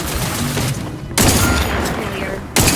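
Sustained automatic gunfire from a firefight in the video game The Outer Worlds 2, loud, dense bursts that briefly drop off, then surge back twice, with a faint voice under the shooting.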